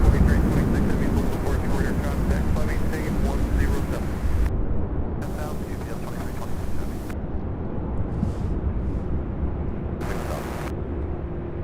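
An MD-11 jet takes off from runway 35 right at Louisville International Airport, a broad, steady roar that holds loud and constant throughout, with people talking over it.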